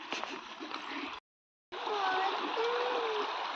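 Water flows and splashes steadily outdoors near a village field path, a broadband rushing wash broken by a brief silent gap, with faint calls or whistles faintly over the stream.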